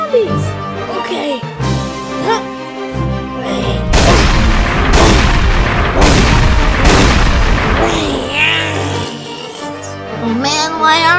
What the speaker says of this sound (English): Quickly, grab it and shoot the zombies.